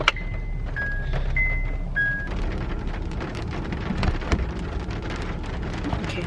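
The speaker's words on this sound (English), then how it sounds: "Also, it's raining, so yeah." Rain pouring steadily outdoors, a continuous loud patter with scattered drip impacts, several brief beeping tones near the start and a low rumble underneath, with no voices.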